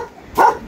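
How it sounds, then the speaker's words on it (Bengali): A single sharp dog bark, close and loud, from one of several farm dogs on a Saudi farm barking at strangers. "আমাদের দেখলে চিল্লায়। দেখতে পাচ্ছেন কুকুরগুলো।"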